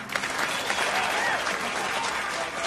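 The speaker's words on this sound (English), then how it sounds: "A big round of applause for Whisper Hug." A crowd at a live auction event gives loud, steady applause with no break, a thick mass of clapping hands throughout.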